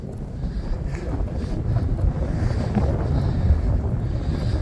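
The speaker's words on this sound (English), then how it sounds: "the wind just doesn't want to die down" Strong wind buffets the microphone on an open cattle farm, a steady low roaring rumble that gusts and swells throughout without letting up, with no voices present.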